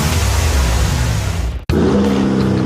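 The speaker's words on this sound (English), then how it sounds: "That's the sound of the 2023 Chevy Silverado's turbo high-output engine" A 2023 Chevy Silverado's turbo high-output engine roars loudly and steadily, cutting out for an instant before surging back with a deep revving note, heard near at a drag strip.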